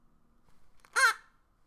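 A raven gives a single harsh caw, short and fairly close, standing alone against a quiet background.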